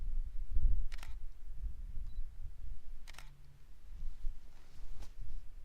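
Shutter of a single-lens reflex camera fitted with a Sigma 70-200mm lens, set to 1/200 s at f11, fires three separate times at roughly two-second intervals, each a crisp close click against quiet outdoor wind by a railway viaduct.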